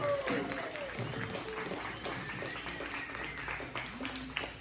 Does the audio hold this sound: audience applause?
yes